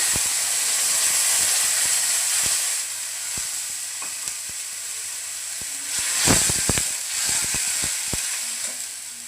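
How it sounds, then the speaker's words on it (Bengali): Turmeric powder and a splash of water hit hot tempered oil for a fish curry with taro, giving a steady bright sizzle with a sharper burst of hissing and spattering near the end. "তেল ফোড়ন হয়ে গেছে এখন দিয়ে দেবো হলুদ গুঁড়া দিয়ে দেবো অল্প পরিমাণ জল"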